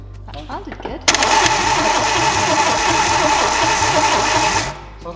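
A Peugeot 309 GTI engine left unstarted for 22 years cranks briefly, then catches and runs at a rough, loud, rattly idle for a few seconds before dying away, with people talking around it.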